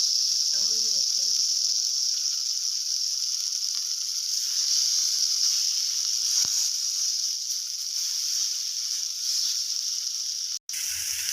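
Fish frying in a little oil over medium heat, a steady bright sizzle that holds evenly throughout at moderate volume, with a brief sharp click near the end.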